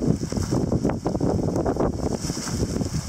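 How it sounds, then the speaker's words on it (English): Wind blows steadily from the north outdoors, a constant gusty rush with buffeting against the microphone and no voices. "It's suddenly getting windy now, I can hear it."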